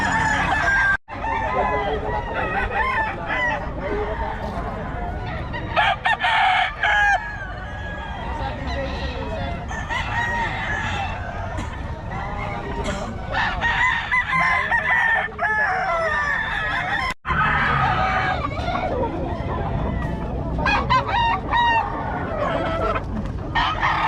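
A Lemon Sweater gamecock crows loudly and repeatedly nearby at a rooster market, with clucking from other fowl and people talking around it.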